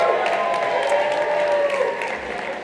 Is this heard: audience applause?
yes